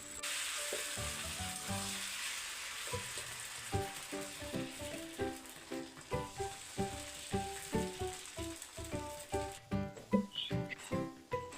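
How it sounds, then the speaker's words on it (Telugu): Masala dosa batter sizzles and crackles on a hot pan, a soft, steady frying hiss with light pattering pops and occasional scraping close by. "ఇప్పుడు దోశ వేసుకోవాలి."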